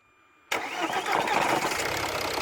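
A Ford Mondeo in limp mode with fault P2263 cranks and catches after a silent half second, then settles into a steady, close engine run with no voices.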